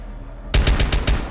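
Rapid bursts of automatic gunfire in Rainbow Six Siege, about five loud close shots in quick rhythm after a quiet start.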